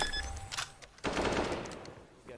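Rapid bursts of automatic gunfire and shots ring out during a Counter-Strike match between 9z and Vitality, loud and close, with excited commentator voices talking over the action.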